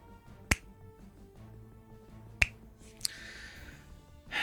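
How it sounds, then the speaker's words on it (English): A slow clap: three sharp, isolated claps spaced roughly two seconds apart, crisp and close, with only a quiet background between them. "Slow clap."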